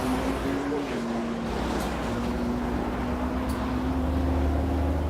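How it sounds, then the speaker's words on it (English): A turbocharged Holden Commodore at a drag strip holds a steady, heavy engine drone with a sustained tone, heard from a distance under wind-like broadband noise. "They start to get the boost up in it now. Nice little turbo sitting under the bonnet of that Commodore"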